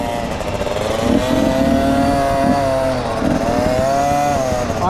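A dirt bike engine drones steadily and loudly while being ridden, its pitch rising and falling slightly with the throttle across the whole stretch, with no talking over it.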